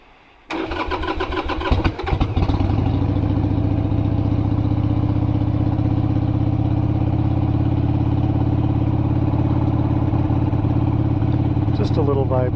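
A 1997 Harley-Davidson XLHS Sportster motorcycle engine cranks briefly, fires up and settles into a loud, steady, throbbing idle close by, with a faint click near the end.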